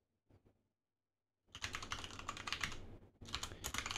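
Code is typed on a computer keyboard, a brief tap or two and then a quiet pause before a rapid, continuous run of clicking keystrokes, close and fairly soft.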